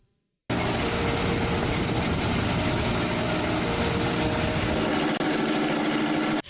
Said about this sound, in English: this is the first hovercraft in Africa.